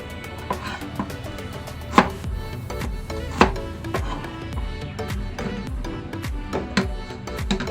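A knife cuts an onion into quarters on a board while cooking Filipino native chicken tinola, with a string of sharp close chops, a few louder strikes standing out among lighter taps, no talking.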